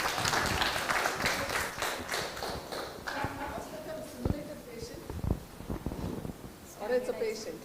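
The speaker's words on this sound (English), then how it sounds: "Big round of applause" An audience at a medical education course breaks into dense applause that gradually thins into scattered claps, with voices talking over it.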